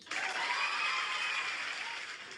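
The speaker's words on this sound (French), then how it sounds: "J'applaudis pour mon modo Bonnie." Hands clapping for a newly named moderator, a dense, steady patter of claps held at an even level for about two seconds before easing off slightly.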